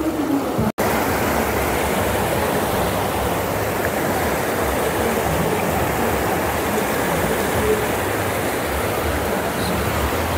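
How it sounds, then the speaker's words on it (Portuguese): Stream current rushes over the Poço Verde spillway in Itapipoca, Ceará, a loud, steady, broad roar of flowing water running unbroken from start to finish, with no talking. "A correnteza aí tá tranquila."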